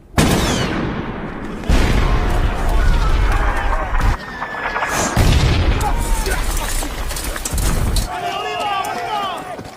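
Long-range artillery fire during a World War II battle scene between French and German forces, heavy booming blasts and rumbling repeated over about ten seconds, loud and close, with a narrating voice talking over it.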